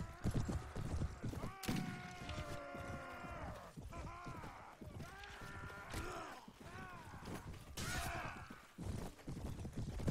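Horse hooves clip-clop in the Mount and Blade battle game, a steady galloping patter running under game music and clashing combat noise, with a brief whinny; someone talks over it at times.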